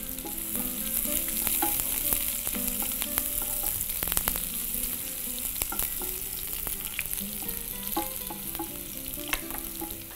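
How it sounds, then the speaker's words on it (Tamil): Onion sizzling as it fries in gravy in a pan, a steady broadband hiss with the clatter of stirring throughout, close and fairly loud with no voices. "நம்ம எடுத்து வச்சுருக்க வெங்காயத்தில் கொஞ்சத்தை வந்து இதில் சேர்த்துக்கோங்க"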